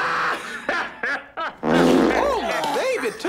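A fart sound effect in the 1996 film The Nutty Professor, heard as a long buzzy low rumble amid grunts, laughter and snickering from people at a family dinner table.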